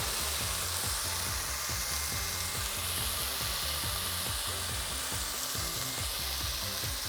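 Shrimp strips fry in a hot pan with a loud, dense, continuous sizzle and crackle up close, running steadily throughout with no voices.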